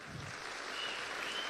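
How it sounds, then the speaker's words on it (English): Audience applause at a convention meeting: a brief wash of many hands clapping together, steady and fairly faint, heard without any speech. "Come, give Forever Giving a clap."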